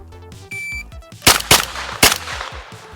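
Three sharp handgun shots in a Mozambique drill, two close together and a third after a short pause, following a shot timer's beep, loud and close on an outdoor range.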